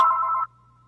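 Phone ringtone cutting into a meeting: a brief, loud electronic tone that stops abruptly after half a second, leaving a faint hum.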